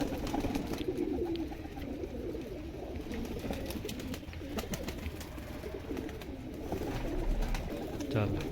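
Pigeons in a loft give soft repeated coos at close range, layered over a busy background murmur with speech faintly present.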